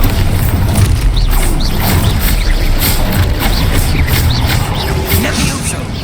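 Expulso explosion spell in the game Hogwarts Legacy, heard as a loud booming blast within dense, continuous spell-combat noise of crashes and impacts, with shouted voices mixed in throughout.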